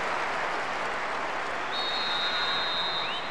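A PES 2009 football game stadium crowd roars in a broad, steady wash of cheering that holds loud and constant throughout, with a whistle-like tone rising near the end.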